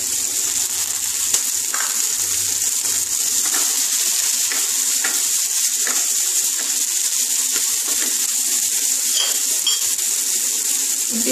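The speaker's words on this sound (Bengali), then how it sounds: "ভালো করে একটু লাল লাল করে ভাজবো। সাথে টমেটোটা দিয়ে দিলাম" Tomato fries in a pan for a spiced potato mash, producing a continuous loud sizzle with scattered light clicks of stirring, and no talking.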